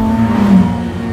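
A Ferrari F8 Tributo's turbocharged V8, the powertrain from the 488 Pista with an 8,000 rpm red line, pulls hard under throttle, its engine note holding a steady loud drone that rises slightly as revs build, with no talk.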